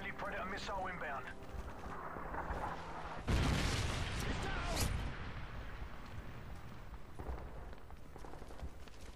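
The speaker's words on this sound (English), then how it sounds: "Friendly predator missile inbound." Predator missile strike in Modern Warfare 3: a heavy explosive impact hits midway, loud and broad, trailing into rumble beneath ongoing gunfire and someone talking.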